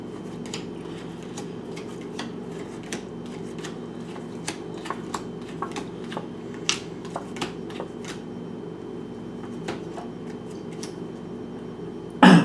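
Tarot cards from a Rider-Waite deck are shuffled and handled nearby, giving sparse soft clicks and snaps over a steady low hum, ending in a sudden louder knock.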